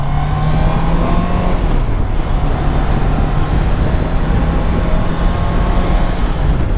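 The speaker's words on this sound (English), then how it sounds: "we're stuck in traffic again" Road traffic in Germany rumbles around a motorcycle, with a loud steady engine drone, wind buffeting and a passing vehicle's engine shifting pitch, and no voices.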